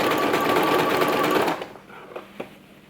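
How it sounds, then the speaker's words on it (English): A sewing machine running a zigzag stitch on swimsuit fabric, a close, steady whirring buzz that stops after about a second and a half, followed by a couple of faint clicks. "I'm gonna do a zigzag stitch all the way around"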